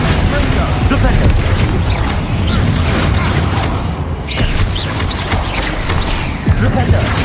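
Flipendo spell casts in Hogwarts Legacy combat: repeated booming magical impacts and whooshes, dense and loud throughout, layered over busy battle effects.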